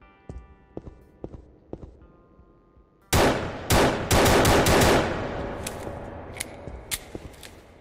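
Gunfire from a Unity first-person shooter game: a few soft clicks and taps, then a loud sudden burst of rapid shots with sharp reports that gradually trail off into scattered pops.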